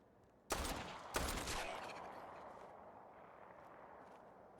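Two sharp gunshots from a gun in Fallout 4, loud and close, each followed by a long rumbling echo that fades out slowly.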